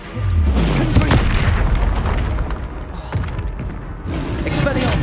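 A Confringo fire spell from Hogwarts Legacy bursts in a loud, deep explosive boom, followed by rumbling combat effects and a second blast, with a voice heard amid the fight.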